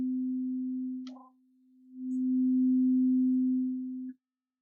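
A pure, ringing metallic tone sustains steadily, is briefly damped by a light tap, then swells back and rings on before stopping abruptly.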